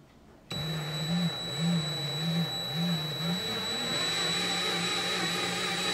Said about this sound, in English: hopefully we can get our lathe going